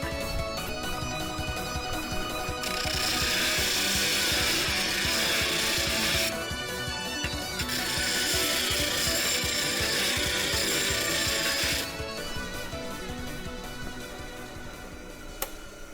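An abrasive grinding wheel in a metal shop, spinning with a continuous mechanical whine. Two long bursts of harsh, loud grinding come as metal is pressed against it, separated by a short pause.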